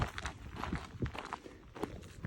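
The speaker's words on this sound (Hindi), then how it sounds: "सिर्फ हमारे पैरों की आवाज़ आती रहती है।" Footsteps of people walking along a forest path on a day's pilgrimage trek, a steady stride of soft crunching steps, fairly close and quiet, with no voices.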